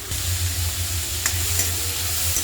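Tomatoes fry in a pan with onions for a ration-rice breakfast dish, a constant close sizzle with faint stirring scrapes and a couple of light clicks.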